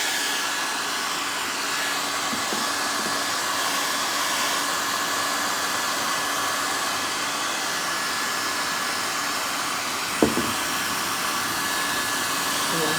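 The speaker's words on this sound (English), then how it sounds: "Now I am going to dry this." Hair dryer blowing steadily at close range to dry a gesso base coat on a street stone, a constant loud whooshing drone with one brief knock partway through.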